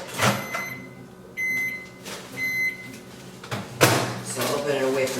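A microwave oven door opens in a home kitchen with clicks and a latch release, mixed with brief beeps and the rustle of nearby handling, while people talk around it.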